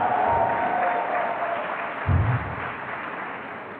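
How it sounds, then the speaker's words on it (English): A round of applause from the audience at a University of Benin Faculty of Pharmacy oath-taking and induction ceremony: steady, dense clapping that fills the room, with a brief low thump partway through. "Can we give him a round of applause?"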